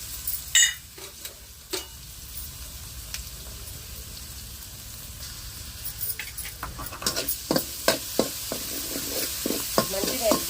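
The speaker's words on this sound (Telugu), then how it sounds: "అల్లం తెల్లగడ్డ పేస్ట్ అయితే వేసుకున్నాము" Ginger garlic paste frying in hot oil, a steady sizzle with repeated scraping stirs from a spoon in the pan, the clatter growing busier toward the end.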